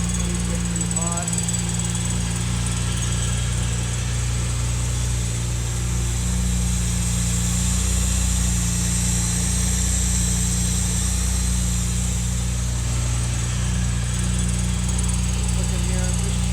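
A 1967 Jaguar E-Type engine runs steadily at idle, a constant low mechanical drone with a faint alternator whine layered on top, loud and unbroken throughout.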